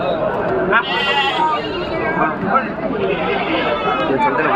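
Goat kids bleat at a busy Saturday livestock market in Ettayapuram, Thoothukudi, scattered calls rising over dense crowd chatter while someone talks over them.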